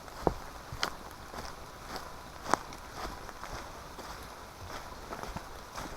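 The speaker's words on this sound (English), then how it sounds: "let's walk down the trail" Footsteps along a wooded trail during wet, rainy wild camping, a few scattered steps fairly close by over a soft outdoor background, with no talking.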